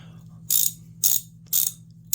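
A Walden 4051 sliding pawl ratchet clicks in four evenly spaced bursts, each a sharp, clunky metallic rattle over a faint low hum, close up.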